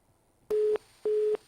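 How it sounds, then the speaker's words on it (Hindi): Two steady, loud telephone busy-signal beeps, each lasting about a quarter second with a short gap between them, heard alone after a phone call is disconnected during a Haryana news broadcast. "फोन डिस्कनेक्ट हो गया"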